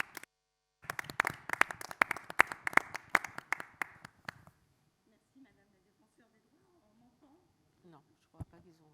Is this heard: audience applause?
yes